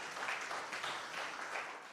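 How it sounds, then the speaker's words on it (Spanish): Congregation clapping together during a church service, a steady crackling wash of applause that holds at an even level from start to finish without voices. "Y un aplauso también, ¿por qué no?"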